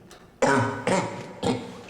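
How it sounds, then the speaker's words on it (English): Three harsh, loud coughs in quick succession, each a sudden burst trailing off, close to the listener. "Those coughs sound real."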